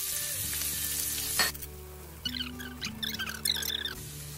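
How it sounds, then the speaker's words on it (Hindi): One tablespoon of chopped garlic dropped into two tablespoons of hot oil in a pan: a clunk, then a close sizzle that breaks into bursts of sharp spitting crackles, loud and uneven, with no speech. "इसे मैं 1 टेबलस्पून चॉप्ड गार्लिक डाल रही हूँ।"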